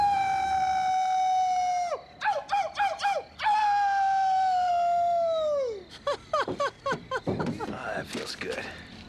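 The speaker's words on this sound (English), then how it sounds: "Why do coyotes howl? It sounds so sad and lonely." Coyotes let out long, drawn-out mournful howls that slide downward, broken by bursts of quick yips and barks, clear and fairly close.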